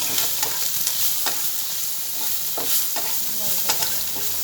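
Potato chops (aloo chop) deep-frying in hot oil, a steady close sizzle with occasional spatters and faint utensil clinks throughout, no talking.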